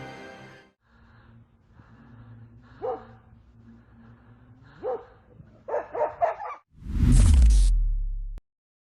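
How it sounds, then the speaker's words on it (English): A dog in dark woods gives a few short barks and whimpers, spaced apart and fairly close, followed by a burst of faster barking and a loud rushing whoosh near the end. "We don't know where the dog came from or why it attacked the wolf."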